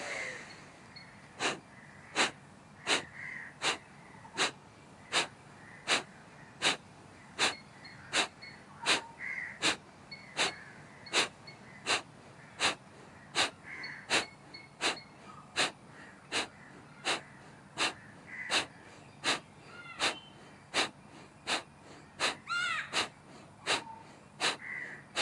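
Rapid, evenly spaced pumping breaths in a Kriya yoga breathing exercise, dozens of sharp forceful exhales in a steady rhythm, close and clear, with a faint gasp near the end.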